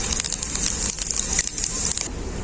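Two dried red chillies and whole cumin seeds sizzle in hot oil for a mutton offal dish, giving a steady close hiss with faint crackles that stops abruptly near the end.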